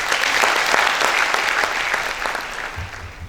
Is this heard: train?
no